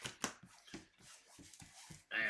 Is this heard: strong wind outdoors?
no